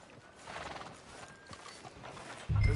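A horse in the video game Red Dead Redemption 2 gives a clear neigh and whinny with clip-clopping hooves, close and fairly loud over a short stretch, ending in a louder burst.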